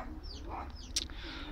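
Muscovy ducks and a shelduck call in a short burst of bird sounds, with soft clucking notes and one sharp higher call near the end over steady low background noise.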